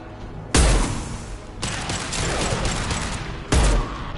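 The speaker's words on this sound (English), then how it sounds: "Firing an impact shot!" Heavy impact-shot gunfire from Mass Effect 2 sci-fi combat: two loud, sharp blasts about three seconds apart, with a dense roar of battle noise sustained between them.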